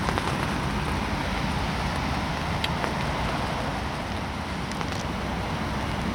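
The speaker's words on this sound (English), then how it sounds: "also it's raining" Steady rain falls outdoors at a carp fishing spot, a dense, even wash of patter that holds constant for the whole stretch with no talk.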